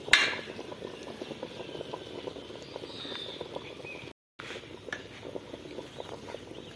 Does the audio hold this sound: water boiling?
yes